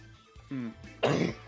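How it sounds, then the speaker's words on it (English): A man coughs and clears his throat during a competitive Pokémon draft league match, a short harsh burst following some quieter throat noise, close to the microphone. "this cough is killing me"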